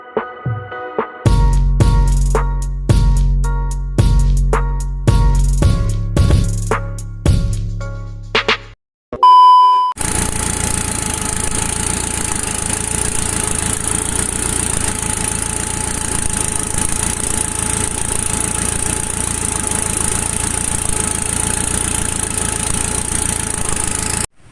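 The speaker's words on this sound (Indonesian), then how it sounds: "Setelah turbo terpasang, saatnya kita cek sound ya, tapi tanpa knalpot dulu." A BMW 318 fitted with a Greddy turbo runs with no exhaust installed, giving a loud, raw, steady idle that drones on for most of the clip after a stretch of rhythmic clattering and tapping at the start.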